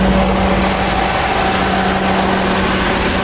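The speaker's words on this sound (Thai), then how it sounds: "เสียงเครื่องยนต์" A 2018 Toyota Altis 1.6 G with about 93,000 km idles close by, giving a steady, even engine drone with a constant low hum that holds without change throughout.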